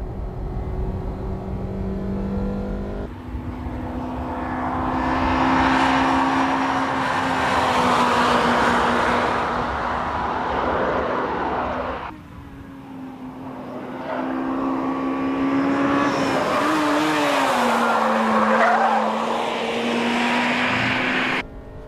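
A Honda Integra Type R race car laps a circuit, its engine loud and close, rising in pitch through the gears with a brief lift near the midpoint before pulling hard again; no talking.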